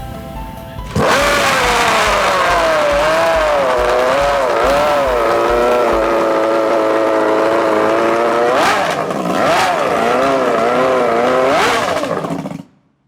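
An outboard hydroplane racing engine fires up and roars steadily for about twelve seconds, loud and close, with a few sharp revving surges before it cuts off abruptly.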